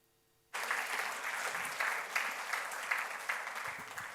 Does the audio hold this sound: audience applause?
yes